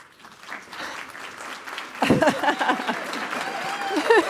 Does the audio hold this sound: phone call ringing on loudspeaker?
no